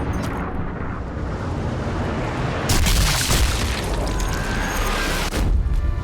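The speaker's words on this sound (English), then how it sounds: "one got by and activated my trip mine" A trip mine blast in the World War II sniper game Sniper Elite V2 on the Schonegerg streets: a loud rumbling boom with debris roar that swells midway and lingers under a dense noisy wash.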